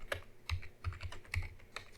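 Fingers typing on a computer keyboard: about half a dozen quiet, crisp key clacks in an uneven rhythm over two seconds, close up with no talking.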